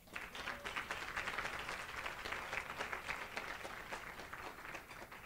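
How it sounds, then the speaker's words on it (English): Audience at a gala applauding, a dense, even wash of clapping from a crowd lasting several seconds, moderately distant and with no talk over it. "Can we have a round of applause for Ms. Woolley?"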